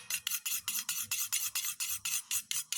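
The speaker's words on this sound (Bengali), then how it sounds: "আমি 4টে ডিমকে একটি বাটিতে ফাটিয়ে নিয়েছি, নিয়ে এইভাবে ডিমটাকে গুলে নেব" Four eggs are beaten in a bowl, making a steady, rapid run of scraping whisk strokes, about five per second, close by and fairly faint, with no talking.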